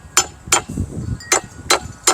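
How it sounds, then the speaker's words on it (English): A hammer strikes the motor cover of a 60-year-old Honda motorcycle five times in a halting rhythm. Each blow is a sharp, close metallic crack, with a softer rumble between the early blows. "I'm going to crack it with a hammer"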